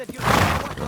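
A horse neighs in the medieval video game Kingdom Come: Deliverance II, one loud close whinny about a second long, heard alone.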